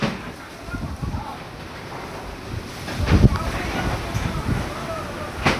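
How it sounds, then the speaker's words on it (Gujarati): Strong wind gusts during rain outdoors, where a boat sits on top of a car, roar steadily and buffet the microphone in loud, rising bursts. "વરસાદ ઓછો ને પવન વધારે છે"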